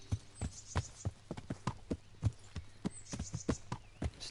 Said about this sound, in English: Alright, let's canter.